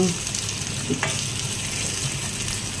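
Food sizzles in a pan at close range while being stirred, with a steady frying hiss and a couple of soft utensil scrapes, no voices.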